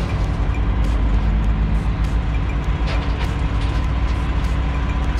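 A forklift moves cars around a Copart auction yard, giving a loud, continuous engine rumble close by, with clanks and mechanical rattles over it and no speech.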